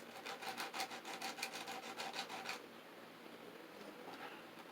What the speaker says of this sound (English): I'm going to sand just a little bit on this side.